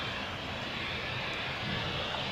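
A jet airliner at Zurich Airport gives off a steady, broad engine roar that stays loud and unchanging, with no voices over it.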